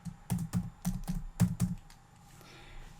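Seven or so crisp keystrokes tapped out in quick succession on a computer keyboard while typing a single word into a spreadsheet footer, followed by a quiet pause.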